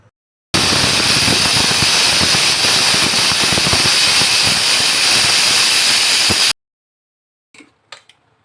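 A loud, steady hiss of steam blasting from a pressure cooker whistle for about six seconds while cooking chicken curry with potatoes, then cutting off abruptly, followed by a few faint clicks.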